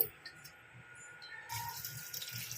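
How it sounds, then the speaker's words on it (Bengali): Cold tap water is poured over drained Maggi noodles, a faint splashing rush that starts about halfway through and continues steadily to the end, after a quieter lead-in. "এর মধ্যে একটু জল দিয়ে দেবো, ঠান্ডা জল"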